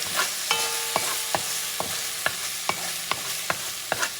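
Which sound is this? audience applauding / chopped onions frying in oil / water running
chopped onions frying in oil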